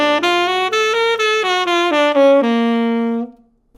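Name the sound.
guitar playing augmented scale clashing over a dominant chord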